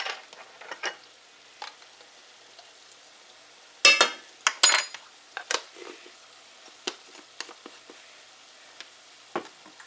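Garlic going into a hot pan brings sharp sizzling bursts and scraping stirs, intermittent and close, with a louder cluster of hisses midway and quieter pops between.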